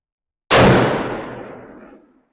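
A single loud Begara B14 HMR rifle in .300 PRC fires at a 1000-yard steel target range: a sharp, close blast that rolls into a long decaying echo over about two seconds.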